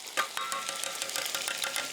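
Sizzling food in a pan stirred with a spoon, a bright continuous fry broken by quick, repeated scraping strokes, close up with no voices.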